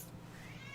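Cats fighting in the background, yowling and caterwauling at a low, distant level in a domestic setting, with a dog somewhere nearby.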